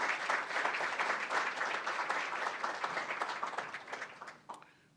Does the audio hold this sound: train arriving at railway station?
no